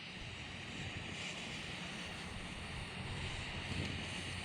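Steady wind gusting across an open lakeshore at Lake Pueblo State Park, a continuous broadband rush with no voices, holding at an even moderate level throughout.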